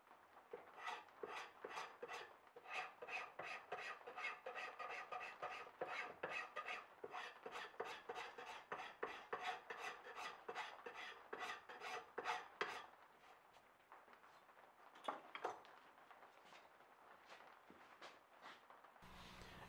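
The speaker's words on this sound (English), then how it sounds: "The rasp hogs off most of the wood." A rasp files a wooden knife handle in quick, steady back-and-forth strokes, close and crisp, for about thirteen seconds, then pauses, scrapes briefly a couple more times and goes quiet.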